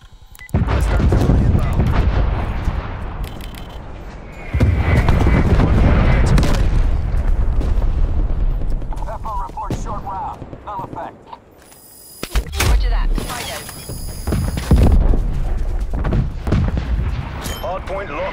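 Artillery strike in Call of Duty Black Ops Cold War hardpoint gameplay: a series of heavy booming blasts with rumbling tails, loud and close, separated by brief lulls, with game voice callouts mixed in.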